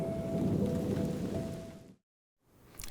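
Steady rain falls with a broad hiss and a low rumble beneath it, breaking off into silence briefly before the wet noise resumes.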